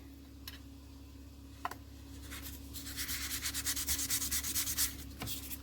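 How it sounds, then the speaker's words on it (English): Polymer clay pendants being hand sanded with sandpaper: quiet rhythmic rubbing strokes that build up over the second half, with a few faint ticks earlier on, close and alone with no talk. "So I'm going to go through and sand these."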